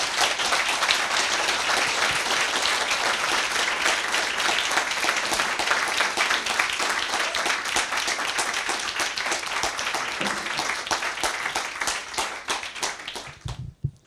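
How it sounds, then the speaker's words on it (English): Sustained, dense applause from an audience at a book talk, loud and steady for about thirteen seconds before tapering off with a few final claps. "Can we have a huge round of applause first, please?"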